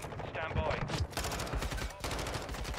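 Rapid automatic gunfire in Modern Warfare 2 ranked play, a dense stream of close, loud shots that briefly breaks off and then resumes.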